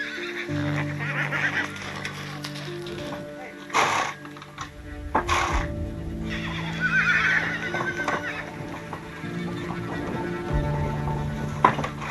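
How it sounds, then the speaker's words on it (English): Mares held in a restraining stall at an Icelandic blood farm give several loud, shrill neighs and whinnies, with rattling and shuffling movement between calls and a human voice faintly in the background. "When the whole body shudders, the horse is in a state of extreme aggravation."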